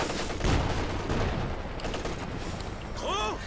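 Gunfire and incendiary rounds in a Company of Heroes 2 battle, with a dense crackle of rifle and automatic fire, heavy booms and a rising whistle near the end, a commentator speaking over it.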